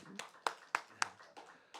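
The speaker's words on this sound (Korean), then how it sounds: "우리 하나님 앞에 감사와 영광의 박수를 올려드리겠습니다." A church congregation claps at the close of an afternoon praise service, a few distinct sharp claps spaced irregularly, fairly faint and sparse rather than a full ovation.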